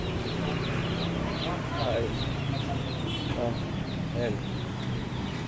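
Chickens cluck and chatter nearby amid steady background noise, while a person speaks briefly.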